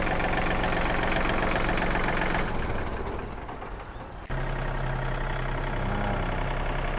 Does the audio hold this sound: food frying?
no